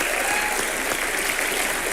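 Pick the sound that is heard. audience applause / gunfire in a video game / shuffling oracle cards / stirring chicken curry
audience applause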